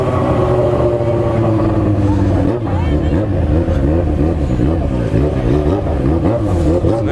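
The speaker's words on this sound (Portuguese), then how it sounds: "Como que chega quietinho com essa moto?" Motorcycle engine revving loudly up close as the bike rolls in at a lakeside gathering in Igapó, Londrina, with busy crowd chatter and music throughout.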